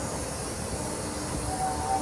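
An Indian Railways New Delhi–Malda Town Express pulling into a platform at Deen Dayal Upadhyaya Junction gives a steady, broad rumble and hiss, with faint squealing tones near the end.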